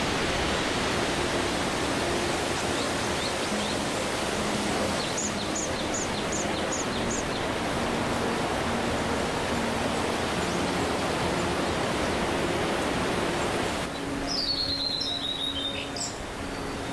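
Steady broadband rush of flowing water fills the whole clip, with a few faint bird chirps rising above it now and then.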